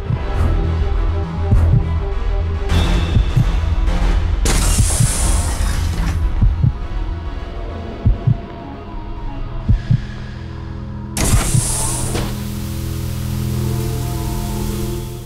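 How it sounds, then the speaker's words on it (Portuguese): A steady heartbeat in the video game Resident Evil Code Veronica X, low rhythmic thumps pulsing alone under a droning game ambience with occasional brighter hiss swells. "Por que tá com o coração batendo?"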